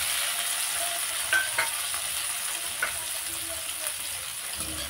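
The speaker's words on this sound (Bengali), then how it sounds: "নেড়ে ভালো করে আমি ভাজা ভাজা করে নেব।" Chopped tomato, garlic and ginger frying in a pan, a steady soft sizzle with a few light scrapes and clinks of stirring, close and fairly quiet, no talking.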